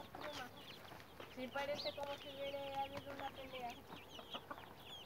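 Hens and young chicks cluck and peep near a farm corral, with a steady run of high chirps and lower clucks close by while people talk quietly underneath.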